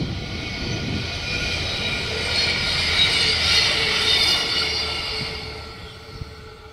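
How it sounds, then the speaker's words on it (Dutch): A small regional train running from Leeuwarden to Sneek through farmland passes with a sustained broadband rumble and high rail hiss that swells mid-pass and fades, loud and fairly close, no voices. "En daar is het treintje van Leeuwarden die naar Sneek gaat."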